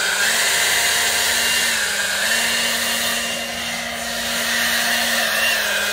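A Wild Badger Power 40V cordless blower running in turbo mode: a loud, steady, close-up rushing whine with a constant motor hum that holds for the whole stretch, dipping only slightly in the middle.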